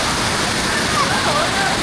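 A river near Bhimashankar, crossed on foot, gives a steady, close rush of flowing water with no break. Faint voices can be heard under it.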